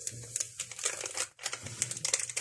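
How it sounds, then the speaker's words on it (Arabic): Crinkly plastic-foil sachets of hazelnut-flavoured Nescafe being handled and torn open in a kitchen, a close, busy rustling and crackling that runs throughout with one brief pause. "وهضيف كمان كيسين نسكافيه بالبندق"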